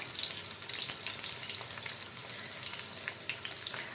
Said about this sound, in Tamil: இந்த உள்ளியும் சேர்ந்து நல்லா எண்ணெயில் பொரியட்டுக்கும்.